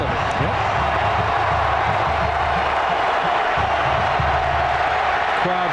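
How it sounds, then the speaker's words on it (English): A college football stadium crowd at an SEC game between Florida and Auburn roars steadily to rally the defense on third down, a dense, continuous wash of cheering and noise, with a commentator talking over it. "Crowd trying to encourage that defense on 3rd and 4"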